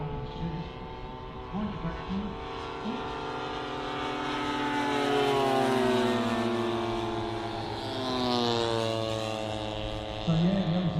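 A model Corsair at the Weston Park air show drones overhead, its engine pitch sliding up and down in long sweeps as it passes, steady and moderately loud, with a person speaking under it.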